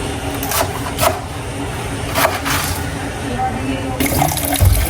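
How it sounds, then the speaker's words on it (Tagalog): Water sloshes and splashes in bursts as vegetables are soaked and rinsed, with background noise and speech-like sounds throughout. "Atin na po muna ibababad dito sa tubig. Eh. Hugasan na po natin."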